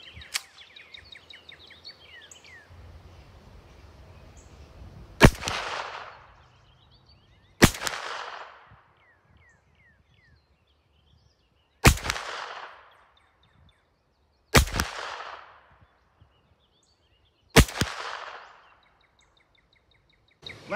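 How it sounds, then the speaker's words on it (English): Five sharp gunshots from a Smith & Wesson FPC pistol-caliber carbine ring out at an outdoor range, evenly spaced a few seconds apart, each a loud crack with a brief echoing tail over faint background noise. "today I went back out to the range and I fired it from 50 yards and from 100 yards"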